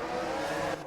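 F1 22 race cars roar off the grid at a video game sprint race in Japan, a dense, loud layered engine howl that holds steady for about a second.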